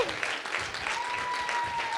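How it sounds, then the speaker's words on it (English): An audience at an evening music session at a Baltimore center gives a round of applause: dense, steady clapping from a crowd filling the whole moment, with a faint sustained tone running through it. "one more round of applause for B."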